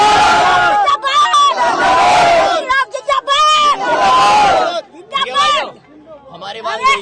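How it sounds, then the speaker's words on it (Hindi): A crowd of women at a funeral in Ghaziabad shouting Inquilab Zindabad slogans, loud rhythmic chanted bursts with overlapping voices, trailing off into scattered shouts. "महिलाएं इनकलाब जिंदाबाद के नारे लगाने लगी"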